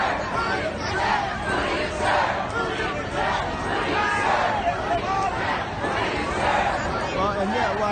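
A protest crowd gathered outside a concert in St. Louis, a dense wash of overlapping voices and shouting chatter that swells and ebbs continuously, fairly close and loud.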